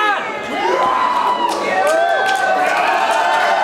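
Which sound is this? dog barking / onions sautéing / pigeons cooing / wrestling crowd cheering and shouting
wrestling crowd cheering and shouting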